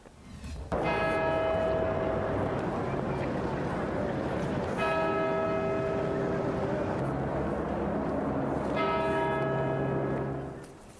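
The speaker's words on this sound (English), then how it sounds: "The bells at Westminster Abbey rang out at 5:43 today" The bells of Westminster Abbey in London peal in three distinct bursts, ringing out loudly over a steady background hum, with the tolling lingering between strikes.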